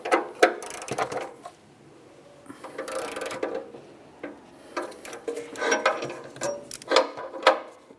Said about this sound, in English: I'll continue snugging it with my ratchet.